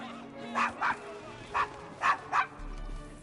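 A dog in Assassin's Creed Syndicate gives five short, sharp barks in an uneven rhythm, fairly close and clear over a quiet game background, with a faint low hum at the end.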